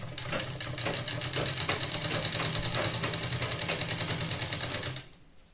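A sewing machine stitches blouse fabric in a steady, fast mechanical whir with rapid needle ticking, close and continuous, then stops abruptly near the end.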